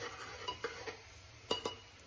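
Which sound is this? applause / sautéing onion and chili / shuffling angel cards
sautéing onion and chili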